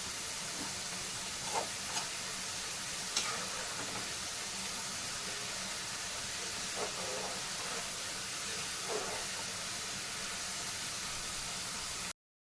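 Homemade potato chips fry in oil, giving a faint continuous sizzle and hiss with a few soft clinks and stirring taps scattered through it.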